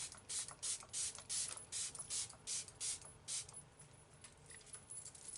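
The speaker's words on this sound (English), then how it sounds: "I'm going to take my MAC Fix Plus, and I'm going to spray." A MAC Fix Plus setting spray gives a series of close, quick hissing spritzes in a fairly even rhythm, about a dozen bursts in a row, with no talking.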